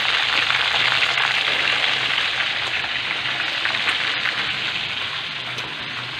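Tilapia or eggplant fries in hot oil in a pan, giving a steady dense sizzle and crackle that stays loud and even throughout, heard close with no talking.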